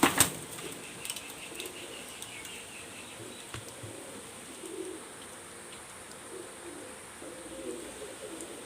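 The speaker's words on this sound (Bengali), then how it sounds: "আমি যে দুইটা কবুতর কেবলমাত্র হাতে ধরে দেখালাম সেই দুইটা কবুতরই আমি এখন দেখাচ্ছি" Teddy pigeons cooing nearby, faint and sparse: soft low coos and a few rustles over a quiet background, with a brief louder burst at the very start.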